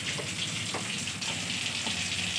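Mustard seeds and dried red chili fry in hot oil, giving a steady close sizzle with a few faint pops and crackles throughout.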